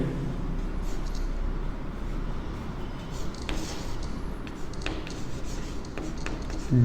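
A pen scratching steadily across paper while working through a linear-equations maths problem, with continuous close rubbing strokes and a few sharper scrapes.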